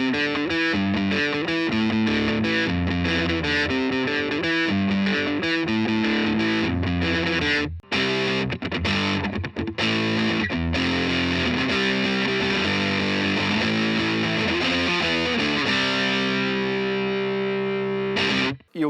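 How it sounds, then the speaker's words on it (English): A guitar runs through a drive pedal set for a modern, contemporary distortion tone, suited to punk. Dense, saturated chords and riffs play continuously and loud for the whole stretch, with no talk. "From this pedal, you're going to get more of a contemporary distortion sound"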